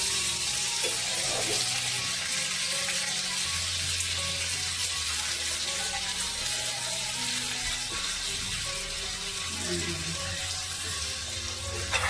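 Pomfret (roopchand) fish fries steadily in hot oil in a pan, a dense, loud sizzle running the whole time with low bubbling underneath and no voices.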